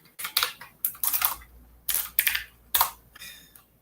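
Typing on a computer keyboard while editing a Vim configuration, heard as close, crisp clusters of key clicks in four short bursts separated by brief pauses.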